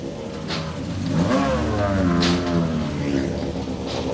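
Volkswagen Polo rally car at the start ramp of the Donegal International Rally, its engine revving and rising in pitch, loud and close, with blips of throttle over a steady idle.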